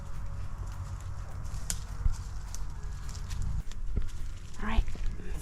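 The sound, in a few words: herd of goats walking around a campsite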